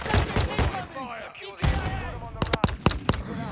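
Pistol gunfire in Call of Duty: Modern Warfare 2, several sharp shots clustered near the end after a stretch of busy game noise, with a voice talking over the early part.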